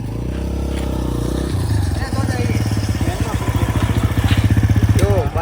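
A motorcycle engine idles close by, its low throbbing pulse steadying into a rhythmic chug, with a voice talking over it.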